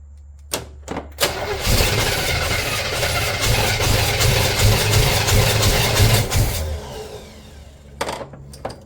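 A car engine with a misfire cranks and catches after a few short bursts, then runs steadily and fairly loud for several seconds before cutting off, followed by brief clanks.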